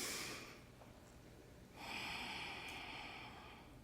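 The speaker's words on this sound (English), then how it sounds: "So I invite you to take a deep breath." A deep breath, a faint exhale trailing off, then a longer breathy inhale or sigh after a short pause, soft and close.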